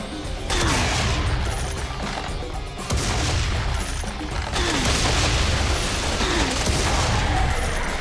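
Rapid bursts of gunfire and booms from the first-person shooter Serious Sam 3: BFE, loud and close, arriving in repeated volleys with brief pauses, with clattering mechanical effects and no talking.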